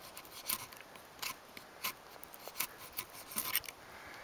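A serrated knife blade saws in short rasping strokes, several quick scratchy bursts in an irregular rhythm, close and fairly quiet outdoors in snow.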